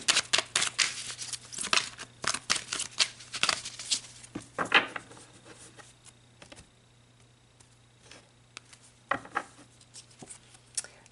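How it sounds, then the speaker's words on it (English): Spiritual oracle cards shuffled and pulled, a string of quick, close papery flicks and taps that thin out into scattered single snaps, heard alone. "So let's pull some spiritual cards and see what's gained through the completion of this soul cycle"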